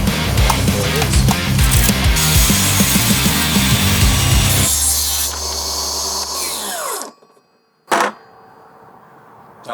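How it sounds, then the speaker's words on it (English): A cordless table saw rips a strip of Hardie fiber-cement siding with a loud, steady, gritty whine that drops away as the blade spins down, then a single sharp knock sounds. "Not bad for a cordless table saw."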